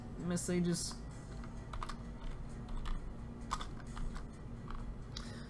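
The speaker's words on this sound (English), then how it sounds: "It's hard typing on a keyboard that's sideways for some reason." Keys clatter on a computer keyboard turned sideways, a moderate run of irregular clicks that carries on through the whole stretch at middling loudness, with some background noise and a brief tone near the start.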